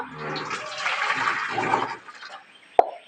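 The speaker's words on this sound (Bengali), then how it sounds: "এই জলটা ধুয়ে মানে গামলায় ঢেলে নেব" Hot water heated in a wok over a wood-fired clay stove is poured into a basin, giving a continuous watery splash that tapers off, ending with a sharp knock.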